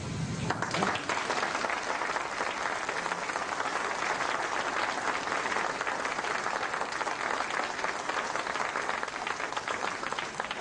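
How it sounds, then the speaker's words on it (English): A debate audience applauds at the close, a dense, even wash of many hands clapping that runs steadily for the whole stretch without a break. "Ladies and gentlemen, will you, by your applause, please thank Mr. McCloskey, Rabbi Kahane, for spending the time."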